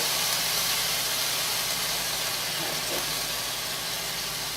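Sesame soy marinade for tuna steaks hitting a hot skillet, a loud, dense, continuous hiss and sizzle close up that holds steady throughout.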